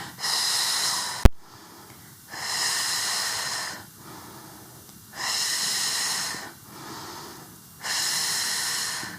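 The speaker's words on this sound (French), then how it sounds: "J'expire et j'inspire." Slow, audible breaths during a Pilates exercise alternate in a steady rhythm of long exhales and inhales, close to the microphone, with a brief sharp click early on.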